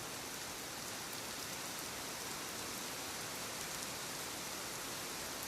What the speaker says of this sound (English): It's a bad night for rain.